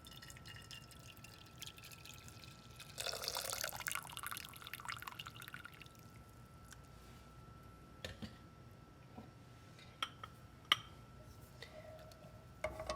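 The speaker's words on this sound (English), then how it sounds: "We will pour in our brewed coffee milk." Brewed coffee milk pours into a pot on a stovetop, a brief splashing stream near the start followed by quieter drips and small clinks, fairly faint, with no talk.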